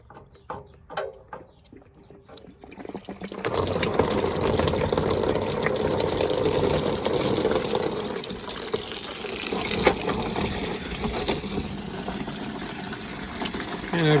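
Water gushing steadily from the drain opening of a Suburban RV water heater into a bucket after the anode rod is unthreaded, starting after a few seconds of quiet handling clicks and then running continuously and fairly loud.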